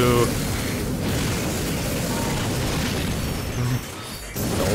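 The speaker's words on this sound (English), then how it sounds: "Many explosions." Continuous booming explosions from explosive barrels and crashing debris in the Ratchet and Clank video game, dense and loud, with a brief dip near the end before the rumble resumes.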